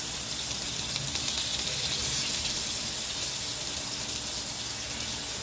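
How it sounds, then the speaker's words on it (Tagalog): Sliced tofu fries in a pan with a steady, even hiss of sizzling oil that holds at a moderate level throughout, with no voices. "lalagay na natin ng tofu guys hanggang sa maubos natin pagprito yung mga in-slice natin kanilang tofu."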